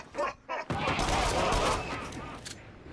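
Gunfire in the VR shooter game Until Dawn: Rush of Blood breaks out in a loud, dense, rapid burst of shots that runs continuously, after a couple of short vocal sounds at the start.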